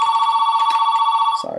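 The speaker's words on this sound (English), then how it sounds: "The phone's ringing, but I'm not going to answer that." A telephone rings with a steady electronic trill, a sustained tone pulsing rapidly and fairly loud in an indoor room, cutting off abruptly near the end with a brief low thump.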